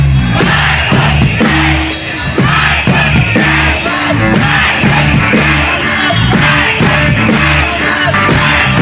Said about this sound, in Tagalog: Kaya sigaw ng taong bayan, Marcos resign!